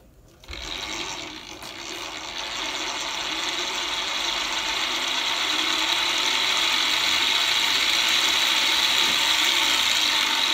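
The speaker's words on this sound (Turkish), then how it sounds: "Tabii ki zorlanıyor makine." A homemade low-RPM alternator for a water or wind generator runs straining at 500 RPM, starting abruptly and building into a loud, steady mechanical whir with a rattling, grinding texture.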